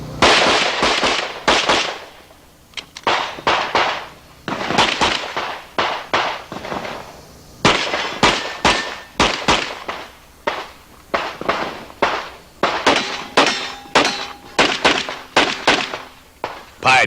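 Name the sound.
rapid pistol shots from Clark Custom Longslide 1911 Colt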